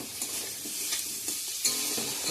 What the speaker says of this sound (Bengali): আলুগুলো দিয়ে দেবো দেখছি এভাবেই রান্না করতেছি পনিরটা